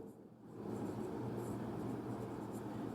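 Chalk or pen taps and scrapes faintly while writing a math formula, a soft continuous scratching under a steady room hum, no speech.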